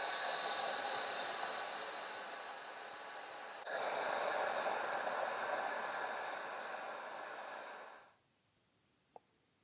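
Heat gun blowing a steady, loud whooshing roar while shrinking heat shrink tubing around a mounting nut on Royal Enfield Interceptor 650 motorcycle wiring, briefly stepping up in strength before cutting off, followed by a single small click.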